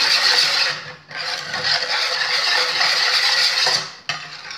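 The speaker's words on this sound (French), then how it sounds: "Et on va encore bien mélanger." Spoon stirring crème brûlée mixture of milk and petits beurre biscuits in a bowl, a steady close scraping rasp that runs continuously with two brief pauses.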